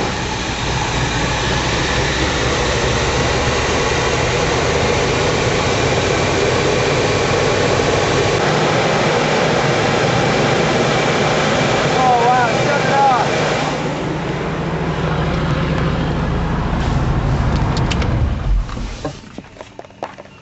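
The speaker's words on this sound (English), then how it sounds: "And we're gonna fire it up and run the rest of the yucky gas out." A Chevrolet Blazer engine being fired up in a garage project runs loud and steady, a continuous rough drone close by that carries on for many seconds before cutting off near the end.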